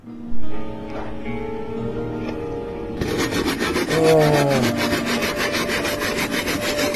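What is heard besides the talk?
electric saw cutting wood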